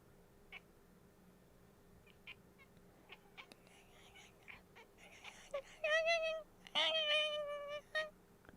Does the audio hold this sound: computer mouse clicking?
no